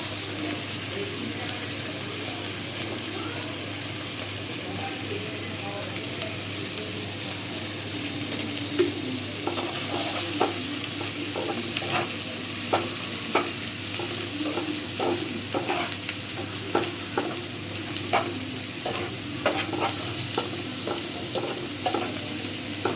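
Onion and pangas fish roe with ginger-garlic paste, cumin, turmeric and coriander sizzle in a pan, a continuous frying hiss with repeated scraping stirs of a spatula growing more frequent.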